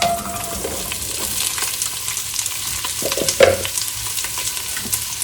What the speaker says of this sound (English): I'm going to start with the onions.